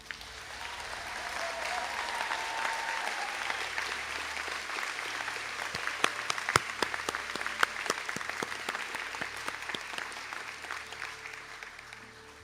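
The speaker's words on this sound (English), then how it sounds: "Could I ask the graduates from the Early Childhood Care and Education and Social Care Practice to stand for a round of applause?" A conferring ceremony audience applauding graduates of Early Childhood Care and Education and Social Care Practice; a long, full wash of clapping from a large hall crowd, with sharp individual claps standing out midway before it gradually tapers off.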